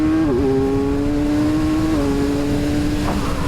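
Kawasaki Z1100 motorcycle engine droning steadily after a downshift into second gear, with a brief pitch dip early on, then a sustained loud hum and a faint change near the end, with no voices.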